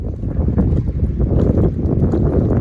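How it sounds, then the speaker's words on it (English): Strong wind at a lake on the Pacific Crest Trail buffets the microphone with heavy low rumbling gusts, loud and continuous with no voices. "It's really windy down here."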